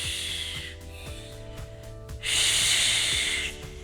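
A forceful exhaled breath during a pelvic-stability pre/postnatal workout, a loud breathy hiss rising partway through and lasting over a second, preceded by softer breathing and faint rhythmic thumps.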